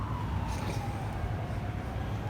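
A distant ambulance siren wails steadily beneath a loud rumble of passing traffic, its tone faint and drawn out.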